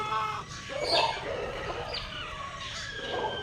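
A pet pullet hen clucks close by in a short series of throaty, uneven calls over faint background noise, with no talk.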